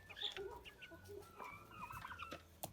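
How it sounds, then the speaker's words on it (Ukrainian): A Leghorn hen clucking close by, a string of short soft clucks and squawks over quiet background noise. "Курочка Легорна."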